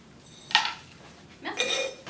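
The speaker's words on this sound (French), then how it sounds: "il faut tout mélanger ça ensemble" A couple of brief clinks and scrapes of a utensil against a dish as ingredients are mixed together, faint and close, with a short pause between them.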